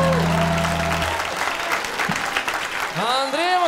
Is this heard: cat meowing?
no